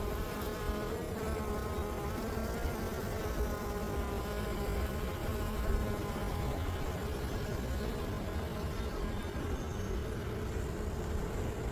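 Honey bees buzz steadily and densely during a beehive inspection. The hum is close and constant, with many wingbeats overlapping and no talk.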